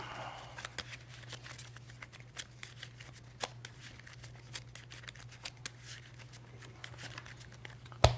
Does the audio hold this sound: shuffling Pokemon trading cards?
yes